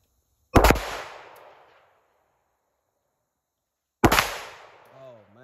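Two loud, close gunshots about three and a half seconds apart, each a sharp crack with a ringing tail that fades over about a second, with a voice starting after the second shot.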